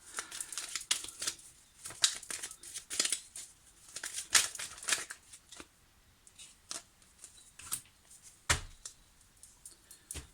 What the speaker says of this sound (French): je vais sortir une dernière carte